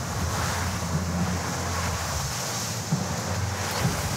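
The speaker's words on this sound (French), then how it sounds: "Il y a une belle vague" Ocean waves surge continuously around a boat at sea off Mayotte, with steady wind rushing over the microphone and no voices.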